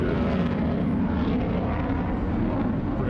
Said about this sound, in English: Here comes the P-51 Mustang